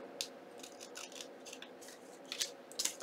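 Scissors trim paper for a junk journal pocket in a series of soft, close snips and crisp cuts, a few quick clusters of them in a quiet room.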